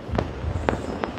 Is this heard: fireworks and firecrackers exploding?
yes